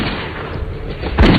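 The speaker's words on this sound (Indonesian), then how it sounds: "anak buah Quixote melepaskan tembakan yang mengakibatkan rekan dari sheriff terluka." A gunshot in a film rings out as one sharp, loud, broadband blast near the end, standing clear above a steady low background rumble.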